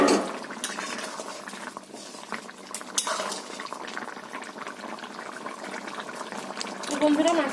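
Hilsa fish and potato pieces simmering in a spiced curry in a pot, a steady bubbling boil with utensil clinks and pot sounds, a voice speaking over it now and then.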